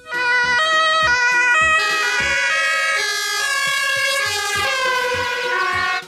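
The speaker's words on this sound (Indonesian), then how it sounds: "di sini ada mobil ambulan" A loud, close electronic siren from a toy ambulance wails continuously in a repeating pattern, alone without talk.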